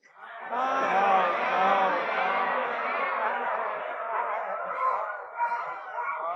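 Many people in an assembled audience call out in imitation of crows during a group yoga exercise, a loud, ragged chorus of overlapping caws and cries that swells quickly after a quiet start and stays busy to the end.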